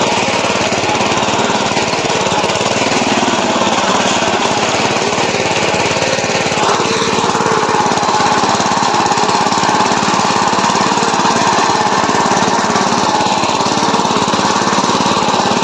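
A power tiller ploughs a field at a steady, loud, continuous engine drone that runs close by and unbroken, with no talking.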